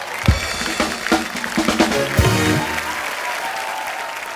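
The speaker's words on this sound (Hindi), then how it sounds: "जोरदार तालियां नेहा के लिए।" Studio audience applause for Neha Dhupia's entrance on a TV comedy show: a dense, steady burst of clapping mixed with a few whoops and cheers, loud and sustained for the whole stretch.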